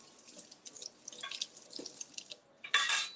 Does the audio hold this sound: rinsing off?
yes